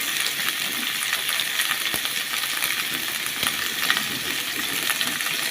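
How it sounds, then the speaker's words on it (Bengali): Tomatoes frying in a pan for a cabbage dalna curry give a steady, close sizzle with crackling and occasional light stirring clatter, continuous throughout with no talking. "টমেটো দিয়ে দিলাম। এগুলো একটু ভাজি করে নিতে হবে।"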